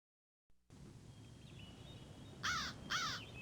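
Crow from the CD-i game The Dark Fables of Aesop gives two loud, harsh caws in quick succession near the end, over a low hiss of ambience after a brief silence.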